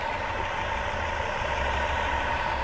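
A car engine idles steadily after being jump-started from a dead battery, a constant low rumble with a faint whine on top, close by and with no speech.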